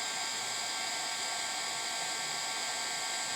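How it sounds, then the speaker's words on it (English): An embossing heat tool set to its lower heat setting blows continuously, producing a steady, close hiss and whine with no talking. "Now there's 2 heat settings on this heat tool. I'm using the lighter one for now."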